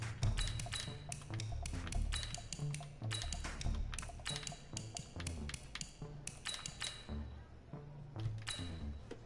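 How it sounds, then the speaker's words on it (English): Rapid, irregular keystrokes on a computer keyboard clatter steadily over a busy game soundtrack with low music, heard while setting up a Madden 20 football game. "Dang it, I can't type with my keyboard."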